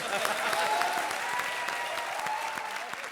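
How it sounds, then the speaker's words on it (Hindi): Studio audience applause for a man playing Baba on a comedy show, a dense, continuous round of clapping held at an even level, with faint voices underneath. "तालियां बाबा के लिए"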